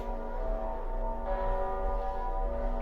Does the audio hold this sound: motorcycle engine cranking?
no